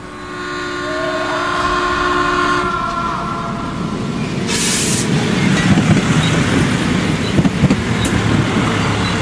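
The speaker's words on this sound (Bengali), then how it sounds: "দূর থেকে কানে এলো ট্রেনের হর্ন" A mail train's horn sounds from a distance in a sustained blast, then the train rushes closer with a loud, broad rumble and clatter of wheels on rails that builds toward the end.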